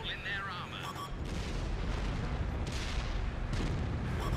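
A tank cannon fires in World of Tanks, a heavy boom that sets off a long rumbling roar, followed by a second blast, with a brief electronic game beep just before.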